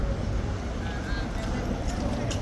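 Horses' hooves clip-clop on a busy street crowded with tourists, faint and steady under constant crowd noise and chatter.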